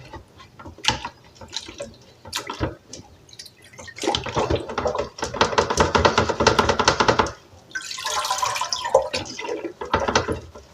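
Water poured over sprouting seeds during germination, heard as splashing and trickling bursts that come and go, with a louder stretch of pouring in the middle and no talking.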